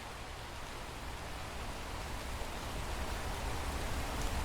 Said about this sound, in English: This rain's getting heavy, isn't it?